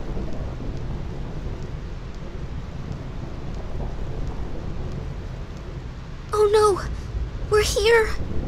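Steady rain and rumbling thunder fill the Thunder Plains in Final Fantasy X, a constant stormy wash throughout, with short character voices breaking in near the end.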